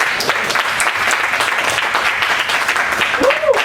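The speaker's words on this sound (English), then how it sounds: "let's give Christian a round of applause." Audience applause at a lecture on the Baybayin script, a steady wash of clapping from a room of listeners that carries evenly through, with a voice or two rising faintly near the end.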